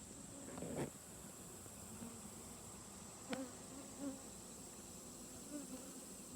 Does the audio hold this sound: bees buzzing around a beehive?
yes